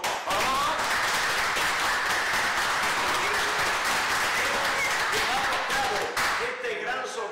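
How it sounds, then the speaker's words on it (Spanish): Strong audience applause during a live local television raffle broadcast, sustained clapping throughout while a presenter keeps talking over it. "con un fuerte aplauso"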